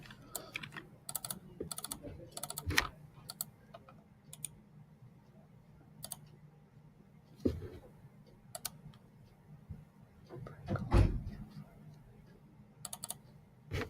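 Computer keyboard typed in bursts of quick clicking keystrokes, separated by pauses and a few louder thumps, close by and fairly quiet with no talking.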